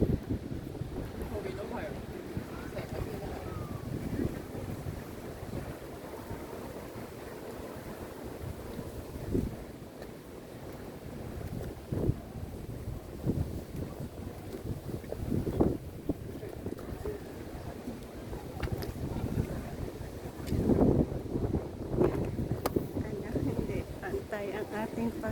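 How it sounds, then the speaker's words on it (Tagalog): Strong wind gusts buffet the microphone at a high lookout in Taiwan, a rough continuous rumble swelling in bursts, with people talking underneath. "Oh, ang hangin."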